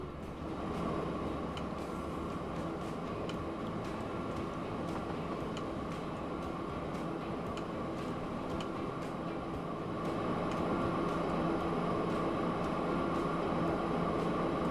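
A train runs in the video game Transport Fever 2, a steady mechanical rumble with a sustained hum and faint rhythmic clicks, continuous and even, swelling slightly louder near the end, with no talk over it.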